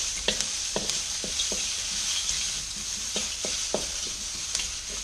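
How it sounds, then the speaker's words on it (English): Vegetables for egg fried rice frying in a pan and stirred continuously: a steady close sizzle with the sharp scrape and clack of a utensil against the pan every second or so, and no voices. "I'm stirring my vegetables, making sure that they all start cooking away"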